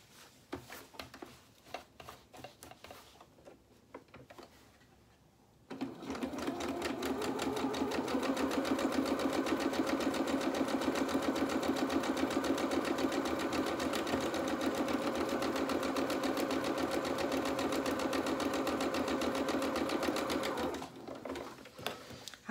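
A sewing machine stitches a small doll shirt in one steady, loud run of rapid needle whirring lasting about fifteen seconds, preceded and followed by quiet handling sounds, with no talk.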